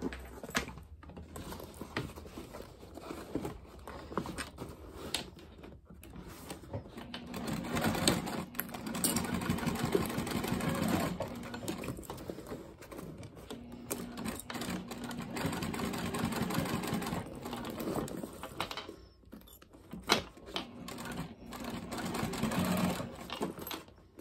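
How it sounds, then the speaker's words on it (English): A sewing machine top stitches a quilted crossbody bag, its motor running in steady bursts with mechanical clatter at close range, pausing briefly between runs. "And then what we're gonna do is top stitch. So we're gonna be over at the machine."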